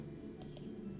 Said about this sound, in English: I am clicking on my mall